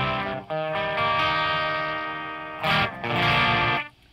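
An electric guitar plays through the clean channel of a Peavey 6505 Piranha amp, sounding sustained, ringing chords with a short break and a fresh strum near the end, heard alone and fairly loud.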